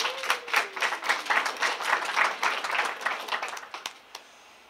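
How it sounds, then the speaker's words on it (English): Audience applause for a guest introduced at a small business program presentation: dense, steady clapping from a crowd lasting several seconds, then thinning out and fading to a few stray claps at the end. "Please applause."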